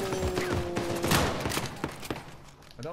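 Rapid bursts of sniper and other gunfire in the video game Uncharted 4 multiplayer, a cluster of sharp shots over game sound with a brief tone at the start, moderately loud.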